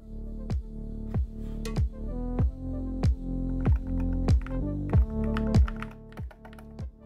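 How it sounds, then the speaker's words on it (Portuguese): Keys of an Akko TAC75 HE mechanical keyboard typed at a steady pace, each press a crisp, close clack in an irregular rhythm with no talking. "aqui tá o som, né, das teclas"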